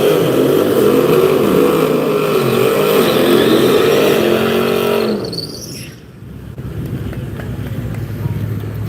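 A Hemi drag racing car engine revs loudly on and off throttle at a speedway, a rough, roaring drone that surges for five seconds then drops away before rumbling back, with an announcer talking over it.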